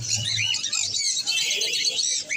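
Busy bird chirping and twittering fills the air at a bird market, many birds including pigeons calling at once in a dense, continuous chatter, with a low murmur underneath.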